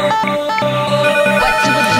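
Telephone ringtone in a Korean hospital drama: a bright electronic ring repeating in quick melodic pulses, loud and close and heard alone without voices.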